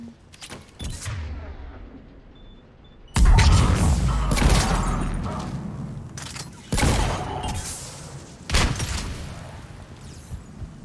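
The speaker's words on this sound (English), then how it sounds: "Intruders, open fire." Bursts of gunfire and explosive booms from the video game Mass Effect 3 during a firefight on Omega, loud and dense, with heavy volleys starting a few seconds in and further sharp bursts repeating to the end.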